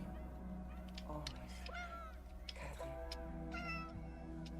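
A cat meows several times in the 11-11 Memories Retold video game, high gliding cries over a low steady background hum, with faint voices under them.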